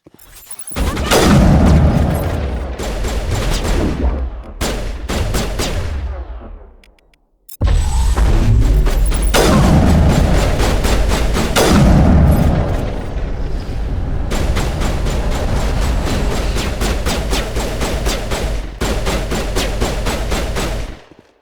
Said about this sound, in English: I guess they're trying to shoot the Rachni through the barrier